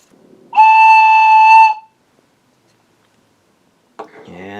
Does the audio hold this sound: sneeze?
no